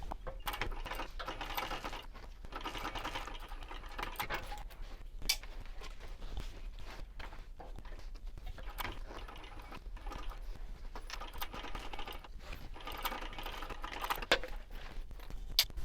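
A sewing machine topstitching across a fabric wristlet, its fast mechanical rattle running almost continuously at close range, broken by brief pauses.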